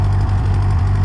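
A Ford 9N tractor engine runs at a steady idle, a loud, close, low chugging rumble with slight knocking through the whole short stretch.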